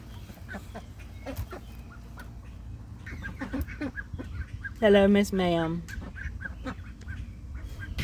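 A hen gives a few short clucking calls close by, with faint soft clucks earlier, over steady background noise and a brief spoken greeting.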